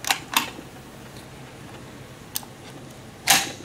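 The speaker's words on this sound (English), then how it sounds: "Once the receiver cover is on and you take pressure off the bolt, you will hear that spring pop into place." A spring snapping into place as an SKS rifle is reassembled after cleaning, heard as a few sharp metallic clicks and snaps spread apart, with the loudest near the end, close by and alone.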